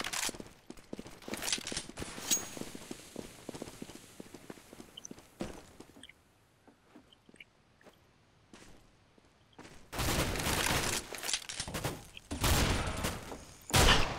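Bursts of rapid gunfire in CS:GO, a spray of sharp shots with footsteps early on, a quiet gap, then loud dense volleys near the end.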